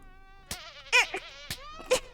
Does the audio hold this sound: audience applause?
no